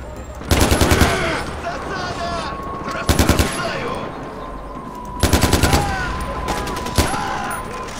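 Loud bursts of rapid automatic gunfire in Far Cry 4, four separate volleys spaced across the clip over a steady background hum.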